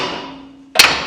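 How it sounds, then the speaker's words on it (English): A sledgehammer lands one sharp, ringing metallic blow on a lower ball joint of a 1960 Pontiac, a close, loud strike that follows a fading earlier ring. "I just gotta find my sledges."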